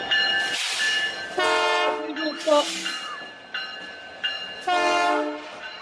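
The CP holiday train arrives, its horn sounding loud and close in several long blasts with gaps between them, over the rumble of rail cars rolling in.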